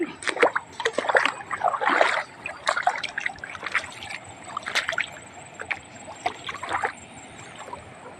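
Water from a natural mountain stream, heard as nearby splashing, trickling and sloshing with irregular bursts, louder at first and then calmer, with faint voices in the background.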